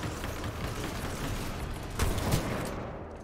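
Bursts of Hemlock rifle fire in the Titanfall 2 video game, fairly faint and continuous with a stronger shot near the end, heard alone without talk.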